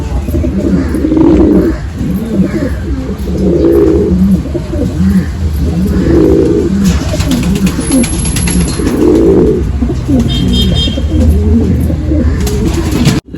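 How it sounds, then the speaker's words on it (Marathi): Pigeons kept by a fancier coo loudly and close by in a steady series of deep, rolling calls repeating every couple of seconds, with other birds faintly audible in the background. "सगळे जोडवाले कबूतर आहेत."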